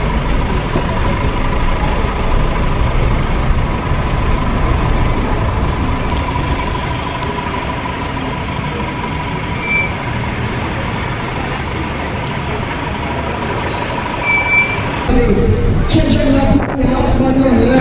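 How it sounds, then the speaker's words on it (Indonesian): Slow, congested traffic on a busy road beside a local craft market in Saint Lucia, with trucks and buses idling in a steady, dense rumble that holds throughout before louder nearby clatter near the end. "Lumayan macet ya."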